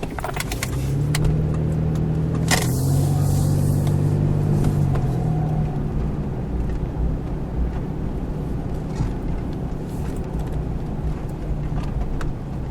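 A 2001 Ford Explorer Sport with its original engine and transmission at 333,333 miles drives into town, heard from inside as a continuous low engine drone and road rumble with a brief louder swell early on.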